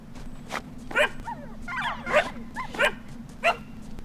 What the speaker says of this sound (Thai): แล้วเห่าเห่าเป็นหมาเลย